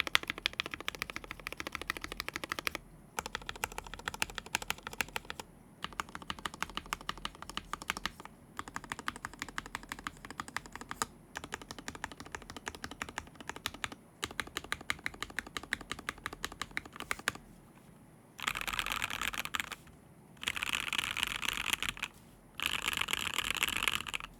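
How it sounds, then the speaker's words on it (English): Fast, continuous clatter of a computer keyboard during a typing test, close and steady, broken by a few short pauses. "I'll do one more 30-second typing test for those who may have missed it."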